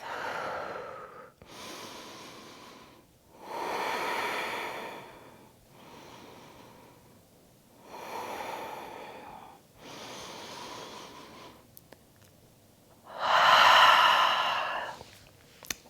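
Slow, deep yoga breathing, with several long, close breaths alternating inhale and exhale, steady and unhurried, ending on a louder, forceful exhale.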